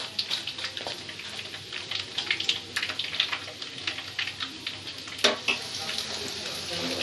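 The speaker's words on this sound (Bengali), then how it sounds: "নুডলসটা আমি এইভাবে ক্রিস্পি করে ভেজে নিয়েছি" Noodles deep-fry until crispy in hot oil, making a close, continuous crackling sizzle with clusters of sharp pops and stirring scrapes throughout.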